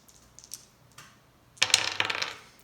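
A few light clicks, then a burst of rattling clatter as dice tumble and bounce across a hard surface during a Spirit Animal board game, settling after about a second.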